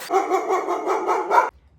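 Dogs barking in a steady run of loud, close barks for about a second and a half, then quiet.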